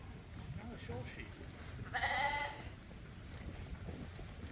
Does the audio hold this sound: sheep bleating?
yes